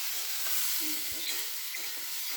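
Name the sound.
mushrooms and onions frying in a pan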